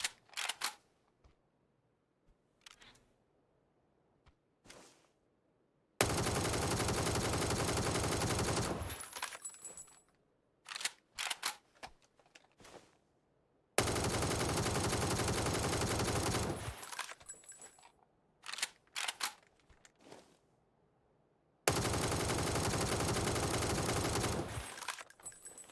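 A scoped rifle fired in PUBG: three long bursts of loud, sustained automatic fire separated by quieter stretches with brief clicks and short handling noises.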